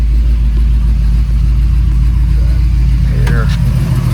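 Loud, steady mid-low rumble of a 1964 Ford Galaxie with the R-code 427 lightweight engine, running continuously close by with a faint brief tonal squeak near the end.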